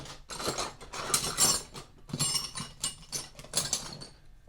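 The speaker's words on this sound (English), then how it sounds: "Now we can pull this out of here and tighten up this nut." Ratcheting metallic clicks and clanks from a 1/2-inch wrench tightening a nut while reassembling a vehicle differential and drive train, in several close bursts with short pauses between.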